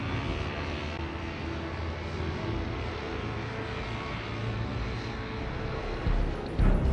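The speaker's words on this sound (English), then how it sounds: "the Flying Robots, a group of powered paragliders from Spain, perform some tricks over the Main" Powered paragliders drone overhead above the river Main at a fireworks and stunt show, a loud, steady engine buzz that persists throughout, swelling slightly near the end.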